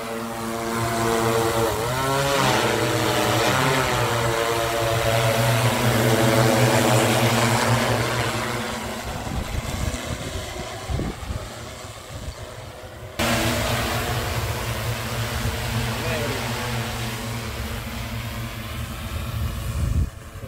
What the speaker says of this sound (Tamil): ட்ரோன் வந்து ஃப்ளை பண்ண தொடங்கிட்டு பறக்க வந்து தொடங்கிட்டுது